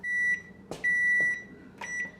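Kitchen timer beeping at the end of tea steeping while making homemade chai tea latte: three steady electronic beeps, close and clear, with a short gap between them in an otherwise quiet kitchen.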